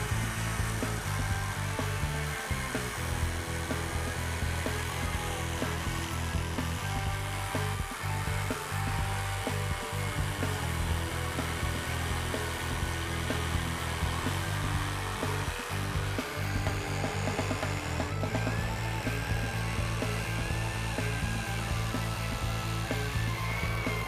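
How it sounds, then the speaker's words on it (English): An electric knife cuts through Pelican gun case foam with a steady, loud motor buzz that runs almost without a break, its tone shifting slightly as the blade moves along the cut. "it's very important that you keep the electric knife blade perpendicular to the foam"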